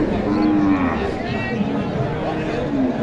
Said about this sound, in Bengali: এখানে একটা ক্রস গরু